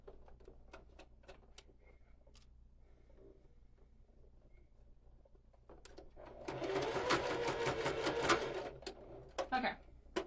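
A home sewing machine stitches a strap onto a fabric water bottle holder in a steady burst of fast, close whirring, starting partway through after quieter handling sounds and ending with a few short clicks.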